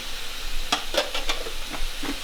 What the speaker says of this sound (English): That way it can steam.